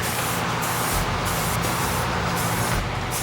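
Rust-Oleum metallic chrome spray paint hisses from a can in a broad, steady rush, with short louder bursts pulsing every half second or so as light dusting passes are laid over primed metal.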